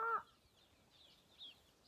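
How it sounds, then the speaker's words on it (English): A short clucking call from a chicken at the start, followed by faint, quieter bird sounds in the background. "And then here are the chickens."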